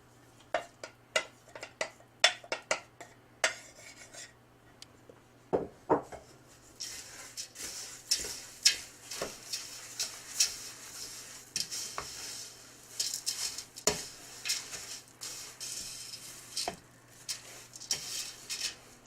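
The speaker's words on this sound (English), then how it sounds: "And mix it really well so you can get everything with a little bit of that syrup on it" Granola grains and nuts being mixed with maple syrup in a bowl, heard as a series of sharp clacks and rubbing scrapes of a utensil, with a softer rustling churn later, close and quiet, no talking.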